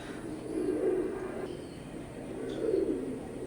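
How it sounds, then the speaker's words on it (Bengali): Semi-adult baby Teddy pigeons of an imported bloodline cooing softly nearby, two low throaty coos spaced a couple of seconds apart against quiet background hiss. "স্ক্রিনে এখন যে কবুতর জোড়া দেখতে পাচ্ছেন কান্টাওয়ালা টেডির সেমি অ্যাডাল্ট এক জোড়া বেবি"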